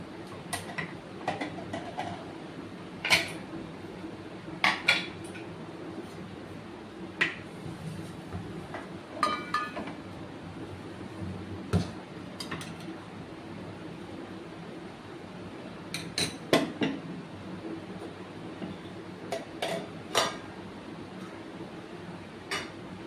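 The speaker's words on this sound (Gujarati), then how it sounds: "તો આપણે કુકરને ખોલી અને જોઈ લઈએ" A pressure cooker of cooked rice being opened, with scattered light metallic clicks and clinks of lid and utensils over a quiet room hum.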